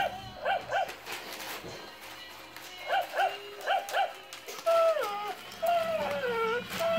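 A toy dog walks along making mechanical movement noises and whimpering, yipping sounds in short repeated bursts, close by, with a person talking intermittently over it.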